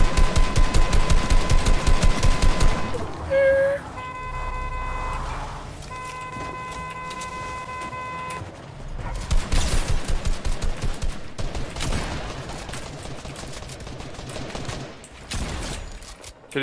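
Rapid automatic gunfire rattles loudly in a Fortnite match, with a long burst, a lull filled with tonal game beeps and chimes, then more bursts of close shooting.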